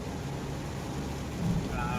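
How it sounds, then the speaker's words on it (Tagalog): Heavy typhoon rain pours steadily over a car driving along the Skyway, a dense continuous hiss with low road rumble beneath, fairly loud and even throughout, with no one talking. "Sobrang lakas ng ulan."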